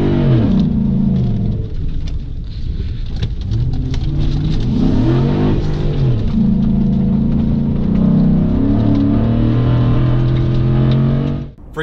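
A Ford SVT Raptor with the 6.2 engine revs loudly and close, in repeated rising and falling sweeps with deep exhaust tones, and no one talks.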